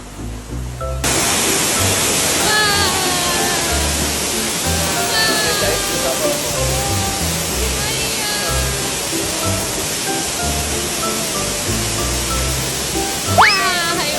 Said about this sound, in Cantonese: 一見到個瀑布